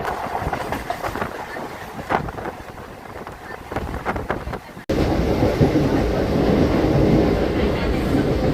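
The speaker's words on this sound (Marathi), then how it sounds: "समोर एक बांद्रा टर्मिनलला जाणारी एक एक्सप्रेस ट्रेन." A Mumbai suburban local train rumbles along the tracks near Khar Road with steady rolling noise and wind buffeting the microphone, growing louder and denser halfway through.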